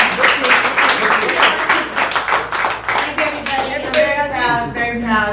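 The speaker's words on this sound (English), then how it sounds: "Give her a round of" An audience applauds a probate attorney at a workshop, a dense burst of clapping close by that fades as a voice begins speaking over the tail end.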